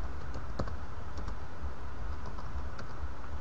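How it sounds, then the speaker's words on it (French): Computer keyboard typed in short, scattered clicks at close range over a faint steady hum, as a command is entered. "Et vous allez taper la commande diskpart"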